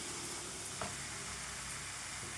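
Ghee stirred into bottle gourd halwa in a pan, a faint steady sizzle with soft stirring scrapes, quiet and without talk.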